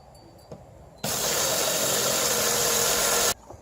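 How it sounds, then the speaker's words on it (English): A power drill bores a hole for a light switch box, one steady, loud whirring run of about two seconds that starts and stops abruptly in an otherwise quiet room. "First thing you do, you drill a hole."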